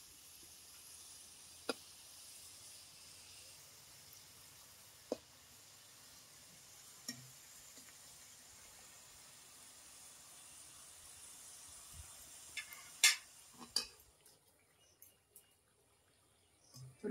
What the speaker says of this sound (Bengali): এগুলোকে উল্টে পাল্টে মুচমুচে করে ভেজে নিই।